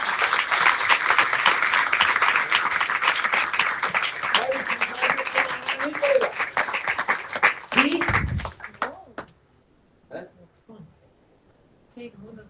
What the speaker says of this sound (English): So everybody clap very loudly.